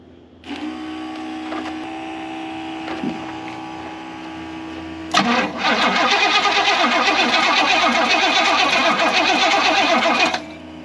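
A long-neglected Pontiac Grand Prix pulled from a tow yard has its starter cranking with a steady whirring grind, then a louder, denser rattling chatter that runs for several seconds before cutting off.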